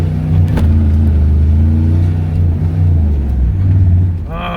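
A Chevy K2500 with a 6.5 diesel engine and 35-inch tires on heavy steel wheels revs loudly and close while being shifted through the gears, the engine rumble rising and falling as it struggles to find third.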